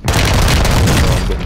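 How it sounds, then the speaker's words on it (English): A short, loud burst of gunfire in Call of Duty: Modern Warfare II, with close, booming rapid shots crackling together over about a second and a half. "I'm getting shot at."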